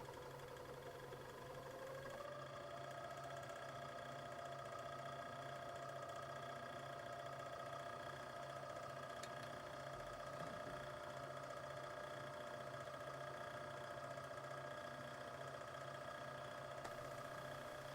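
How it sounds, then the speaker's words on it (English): Facing mill machining the valve surface of a Coles C611 steam engine, a steady humming machine tone with a faint regular cutting chatter, continuous and fairly quiet throughout. "I'm using just a facing mill to bring this down to spec."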